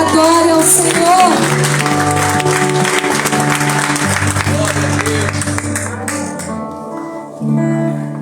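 A church congregation claps along during a Christmas worship service, steady applause blended with singing and organ-like music, loud and close before fading slightly near the end.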